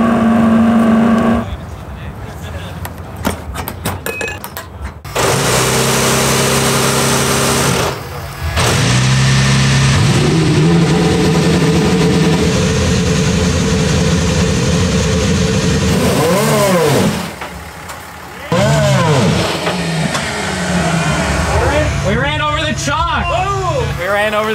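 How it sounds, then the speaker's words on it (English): The Honda IndyTruck's engine warms up and revs at the SEMA show, loud bursts rising and falling sharply with sustained idling between, near the listener, with people talking around it. "Now the guys are warming up the truck."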